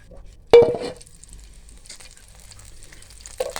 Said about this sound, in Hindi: ऑयल हमारा गर्म हो रहा है। अब हम इसमें ज़ीरा शामिल कर देंगे।